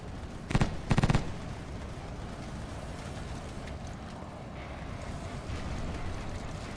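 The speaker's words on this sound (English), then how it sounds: "all these traps will just freaking explode" Traps exploding in the video game Blood Waves: two sharp, loud blasts in quick succession near the start, then a steady rumbling game background.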